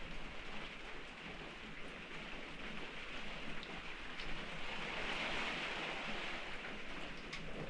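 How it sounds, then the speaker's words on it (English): Wind and heavy rain lash an Alpine hut on a grim morning, heard from inside looking out through portholes: a steady, dense hiss of rain with gusting wind swelling and easing throughout, loud and unbroken. "Just listen to the wind and the rain."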